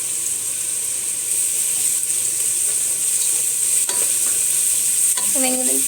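Three sliced onions sautéing in a pan for chicken biryani, a steady broadband sizzle with a few light stirring scrapes and clinks near the end, close and alone with no voices.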